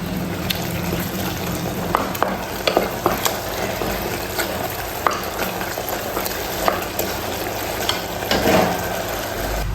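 Spices sizzle steadily in a hot pan while a spoon scrapes and stirs through them in repeated close strokes, with a constant frying hiss underneath.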